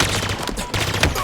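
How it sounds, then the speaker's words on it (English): A carbine firing a three-round burst in Halo Infinite multiplayer, loud and close, with a quick volley of sharp cracks that repeats over about a second, no talking. "So the carbine has a 3 burst, like the battle rifle?"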